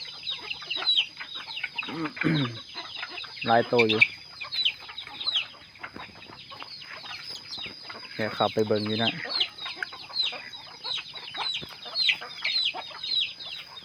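Chickens cluck and cackle in irregular bursts nearby while a person talks intermittently over the flock.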